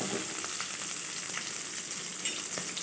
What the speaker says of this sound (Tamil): பச்சை மிளகா கொஞ்சம் வதங்கின உடனே